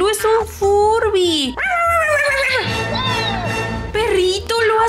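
A dog in a video game whimpers and yips in high, wavering cries with short breaks, loud and close, mixed with voice-like sounds.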